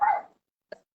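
A pet dog named Lily lets out one short, loud bark-like yell close by, followed by a brief quieter yelp after a pause.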